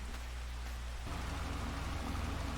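Steady rain hisses and patters inside the Farming Simulator 22 game, a dense even wash of noise with a low rumbling undertone, continuous and moderately loud with no voices.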